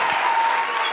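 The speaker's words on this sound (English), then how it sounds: "So can you just all start clapping or like making noise?" An audience at a storytelling talk clapping and making loud noise together, a dense, continuous roar of applause.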